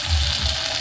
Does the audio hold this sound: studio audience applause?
no